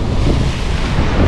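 Sea waves wash in along the Vizag coast as a loud, continuous broadband rush, with heavy wind buffeting the microphone throughout.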